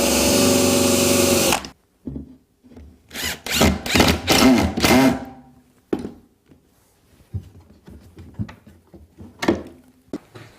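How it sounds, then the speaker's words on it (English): A power drill drives 1 1/4 inch screws through the sides of Euro cabinets: a loud whine first, then several short bursts of drilling, followed by clicks and knocks. "I'm driving 1 1/4 inch screws through the sides to lock things together"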